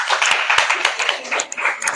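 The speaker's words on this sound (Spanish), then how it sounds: "te damos un caluroso aplauso de recibimiento." Scattered clapping at a conference on access to justice for persons with disabilities, a small number of hands giving short, uneven claps that rise and dip briefly.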